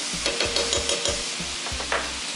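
Pork chops fry in a crowded skillet with a loud, close sizzle, broken by several scraping stirs and bumps against the pan.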